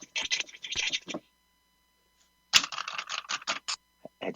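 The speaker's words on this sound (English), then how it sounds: "Clicking of the mouse." Rapid computer mouse clicking and clattering in two dense bursts separated by a silent gap, close and fairly loud with no talk over it.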